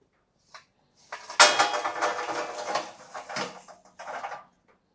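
Hot charcoal briquettes tumble from a metal chimney into a grill for cooking hanger steak, a close clattering, scraping rush of lumps lasting about two seconds, then a few shorter rattles after a pause.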